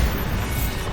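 Bombarda explosion spell cast in the video game Hogwarts Legacy, a short loud crashing blast with rumbling low body filling the whole second.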